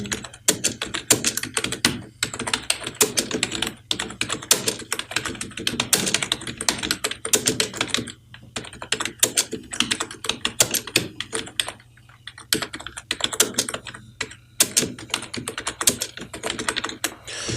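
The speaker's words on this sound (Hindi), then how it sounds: "फॉर एग्जांपल मैं यहाँ पे टाइपिंग करता हूँ" A computer keyboard being typed on for CorelDraw text entry: rapid, steady clacking keystrokes close up, in continuous bursts with short pauses and a low hum underneath, with no speech.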